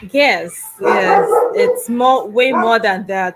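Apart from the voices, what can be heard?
small dog barking in the background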